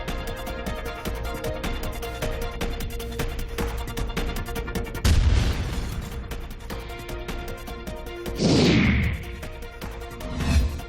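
Drone strike blasts hitting Russian military equipment in Azov, heard as a sharp loud explosion midway followed by another roaring burst and rumble, with no talking.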